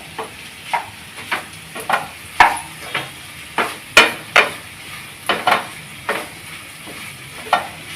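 Ginger and green chillies are sautéed in oil, with regular spatula strokes scraping the pan about once a second over a light sizzle, close and fairly loud.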